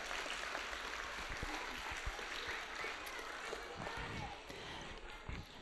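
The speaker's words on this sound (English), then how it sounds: "let's give a nice round of applause to Mrs." Audience at a Howe Montessori kindergarten and first grade spring concert claps steadily, a dense patter of many hands filling the room with a murmur of voices underneath.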